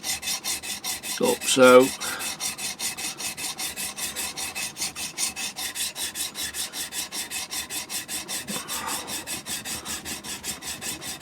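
A chisel is rubbed back and forth on a 300 grit sharpening stone in a steady, even rhythm of rasping strokes, with a brief voice early on.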